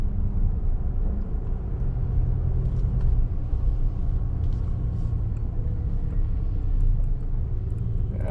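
Road traffic passes on an island, a steady low rumble of car engines and tires that stays close and continuous with no voices.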